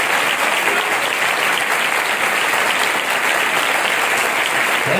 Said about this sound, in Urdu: ایک بار پھر زوردار تالیاں بجائیں